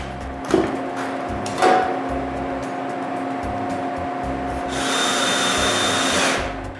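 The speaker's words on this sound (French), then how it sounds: "Je recoupe donc un second cercle, puis je le visse sous le couvercle, en sandwich entre le plastique." A power drill drives screws through a wooden disc under a plastic lid, with a steady motor whir, a few knocks, and a louder high whine toward the end.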